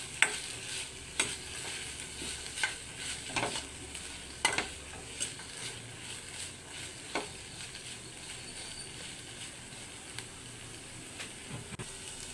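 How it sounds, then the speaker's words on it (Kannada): Tomato and fresh coriander leaves fry in a pan with a steady, faint sizzle and hiss, broken by soft clicks and scrapes of stirring spread through the clip, with no one talking. "ಹಾಗೆ ಸ್ವಲ್ಪ ಕೊತ್ತಂಬರಿ ಸೊಪ್ಪನ್ನು ಸೇರಿಸಿ ಫ್ರೈ ಮಾಡ್ಕೊಳ್ತಿದ್ದೇನೆ."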